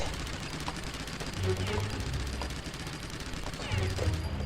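Tommy gun fire in the video game Nocturne, sounding as a dense stream of rapid shots over game ambience, with bursts swelling around the middle and near the end.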